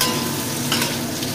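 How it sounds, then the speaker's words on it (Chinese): Green beans dry-fry in a wok over low heat, giving a continuous close sizzle and crackle with a brief stir-scrape in the middle. "个中细火慢慢炒香佢"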